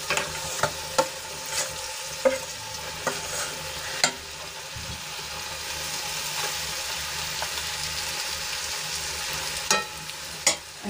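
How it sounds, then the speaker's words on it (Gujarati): Spoon stirring mashed potato masala sandwich filling with lemon juice and sugar in a pan, with repeated scraping clicks and a soft sizzling background, no voices. "અને બધું સરસ રીતે મિક્સ કરી લઈશું."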